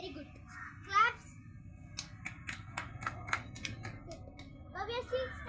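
Children clap in a classroom after a student is praised for a perfect score, a short run of light, scattered claps between a voice and a teacher's speech.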